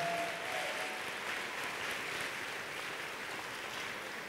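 Applause from an audience at a fashion designer event, a steady, fairly distant wash of clapping with no voices over it.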